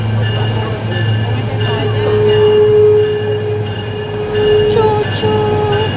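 Steady low rumble and rhythmic clatter of a passenger train on an Alaska scenic railway built in 1898, rolling along the rails, with a long high wheel squeal drawn out through the middle.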